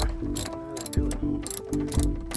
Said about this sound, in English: He's going to adjust the ratchet.